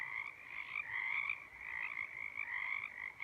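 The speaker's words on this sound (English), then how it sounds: "I wasn't sure if you could hear the frogs." A chorus of frogs croaks outdoors before dawn in a continuous, pulsing, warbling drone, moderately distant and fairly loud against a quiet background.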